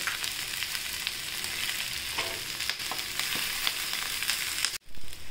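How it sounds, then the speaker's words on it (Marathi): Onion, garam masala and desiccated coconut fry in hot oil with a steady, dense sizzle close by, broken by a few soft stirring scrapes, then a sudden brief drop near the end before the sizzle returns. "आता हे डेसिकेटेड खोबरे हे पण आपण परतून घेऊया."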